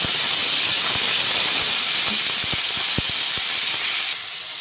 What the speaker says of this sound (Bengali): এরপর আলুগুলো দিয়ে দেব।